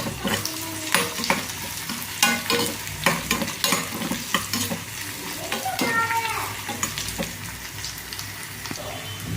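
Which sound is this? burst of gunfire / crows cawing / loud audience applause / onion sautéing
onion sautéing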